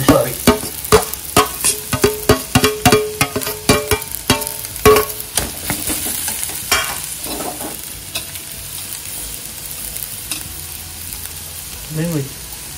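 Vegetables for a vegetarian Shravan thali being sautéed and stirred in a pan, a steady run of loud scraping stirs in quick rhythm over a low sizzle, easing into quieter frying with a faint voice near the end.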